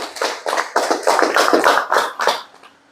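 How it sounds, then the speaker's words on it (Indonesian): A team claps hands at a sales motivation meeting, about nine crisp, loud claps in a steady rhythm, close by, ending in a quiet tail with no talk. "Tips yang pertama, tepuk tangan lah."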